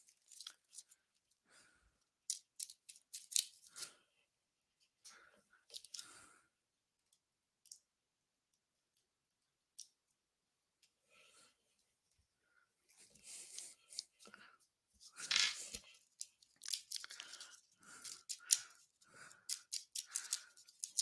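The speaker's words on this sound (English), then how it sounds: "We'll shuffle the driver's cards, put them in the bag." Driver cards for a tabletop racing game shuffled and handled by hand in a bag, soft intermittent clicks, rustles and papery flicks close up, sparse at first and busier toward the end.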